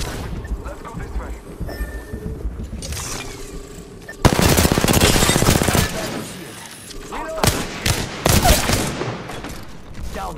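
Bursts of rapid automatic gunfire in the video game Apex Legends, loud and close, with game effects and a player talking between volleys.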